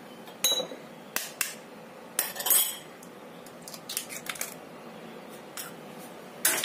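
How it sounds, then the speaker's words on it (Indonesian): A utensil stirs sweet potato donut batter with egg in a bowl, giving a series of sharp clinks and scrapes against the side, some clustered, some spaced apart, with no talking. "Kemudian kita aduk lagi ya, sampai tercampur rata."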